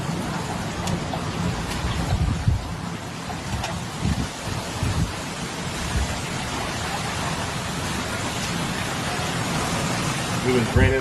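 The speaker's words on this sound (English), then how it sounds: "It was raining like this earlier today in Albuquerque." Steady rain falls in Albuquerque, a dense continuous hiss with gusty wind buffeting the microphone and a few louder bumps, no voices.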